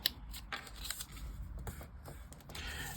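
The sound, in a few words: folding paper for a lace doily junk journal page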